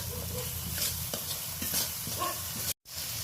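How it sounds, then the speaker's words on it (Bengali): Ginger paste and spices for a fish and eggplant curry being stirred in a pan, a soft continuous sizzle with light scraping strokes close by, briefly cutting out near the end. "ভালো করে নাড়াচাড়া করে নিলাম একটু"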